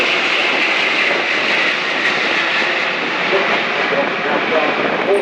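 An Airbus A380 airliner making a slow flypast at the Farnborough air show in 2016, a loud, steady, continuous roar of its jet engines throughout, with an announcer talking over it.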